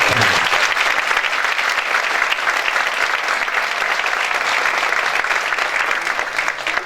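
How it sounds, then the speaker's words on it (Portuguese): Loud, dense applause from an audience at a talk or lecture, steady and unbroken for about seven seconds with no one speaking over it. "Por favor, uma grande salva de palmas."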